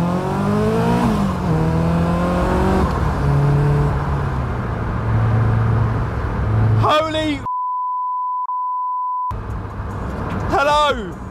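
Supercharged Caterham Seven 620S sports car engine revving through rising gear pulls, loud and close, then a steady electronic beep tone, then another sharp rev; a voice talks briefly.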